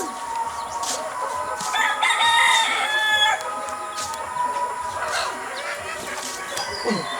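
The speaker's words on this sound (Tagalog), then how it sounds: "Naglaban yung manok" Native chickens squabble loudly nearby with clucks, squawks and a rooster's crow rising mid-clip, against rural background noise.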